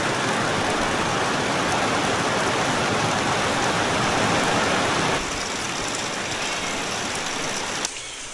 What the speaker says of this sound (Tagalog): Panay ang ulan, ang lakas!